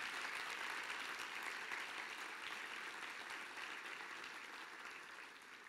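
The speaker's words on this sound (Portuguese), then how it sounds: "Vamos aplaudir bem forte." A congregation applauds steadily at a Protestant church service marking 500 years of the Reformation, a dense, even clapping that fades slightly toward the end, with no voices over it.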